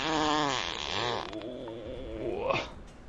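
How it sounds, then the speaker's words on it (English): A single drawn-out, buzzy fart sound effect, played during a Starfield livestream, wobbles and sputters, then rises into a squeaky, high-pitched finish before cutting off. It is close and clear, with no talking over it. "Here comes a very uncomfortable fart."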